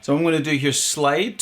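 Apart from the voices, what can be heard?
No everyday noise stands out behind the speech.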